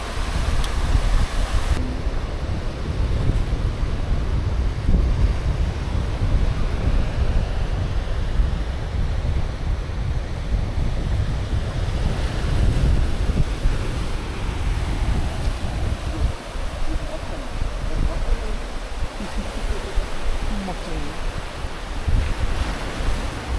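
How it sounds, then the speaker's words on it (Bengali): Sea waves washing onto the shore at Mandarmani beach, a constant roaring surf with heavy wind buffeting the microphone, loud and unbroken throughout. "এখানে এখন বসে থাকা হবে সমুদ্রের পাড়ে।"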